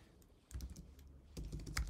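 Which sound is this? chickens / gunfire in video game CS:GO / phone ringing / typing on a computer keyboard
typing on a computer keyboard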